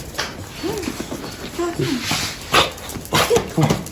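Excited dog near newcomers at a holiday spot in Alaçatı, Çeşme, giving short yips and whimpering barks in quick bursts, close by, mixed with people talking over it.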